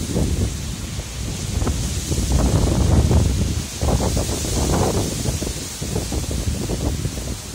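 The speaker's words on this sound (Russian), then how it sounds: "Ветер сильный." Strong gusts of wind in Kyiv Oblast during a storm of about 35 m/s, roaring steadily and loudly against the microphone while leaves and branches rustle in surging waves.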